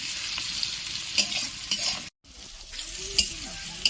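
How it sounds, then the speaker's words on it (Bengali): Steady sizzling of soya chunks frying in a pan with salt, with occasional stirring scrapes and a brief dropout midway. "এটি ভালো করে ভেজে নেব"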